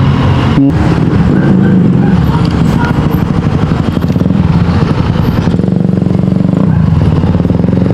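Dense road traffic in Davao with buses and motorcycles passing, a loud continuous roar of engines and tires with rumbling swells and a sharp clatter near the start.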